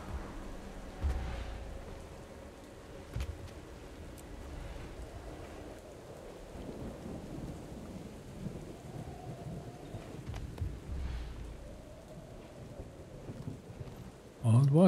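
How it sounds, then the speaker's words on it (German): Thunderstorm in the video game Guild Wars 2, with steady rain hiss under several low rolling thunder rumbles, and a loud burst at the very end. "Was für ein Sturm."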